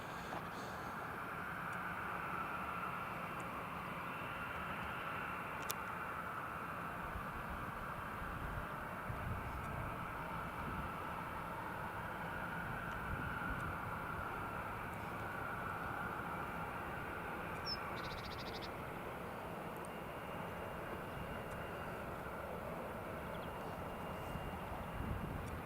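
A Ryanair airliner departing from Newcastle International Airport produces a faint, distant jet roar that holds steady as a broad rumbling wash across the whole stretch, with no talking.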